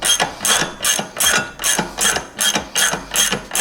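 Propeller nut being loosened with a ratchet on a Mercury 150 Pro XS outboard motor: a rapid, steady run of loud, close metallic clicks in an even rhythm.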